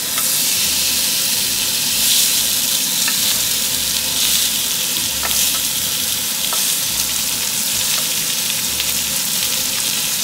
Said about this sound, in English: We are going to put our pork tenderloin to the pan just to brown the outside